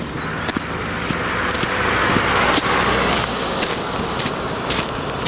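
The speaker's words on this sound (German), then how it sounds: "jetzt sieht man hier so ohne Ende Autos langfahren" Cars pass one after another on a road near a hiking route, a steady traffic wash with tyre swishes swelling and fading close by, no talk over it.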